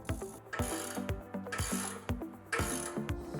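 A ratchet wrench drives lag bolts into the wall to fix a fireplace TV mount bracket, repeated rapid clicking strokes in bursts, close and clear.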